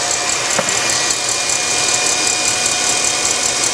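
An electric mixer whipping egg whites for macarons at top speed, a loud, constant high-pitched motor whir that holds steady throughout without a break.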